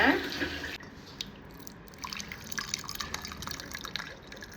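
Drumstick leaf soup is poured into two glasses, a soft splash and trickle of liquid near the start followed by faint drips and small clinks, with quiet background noise.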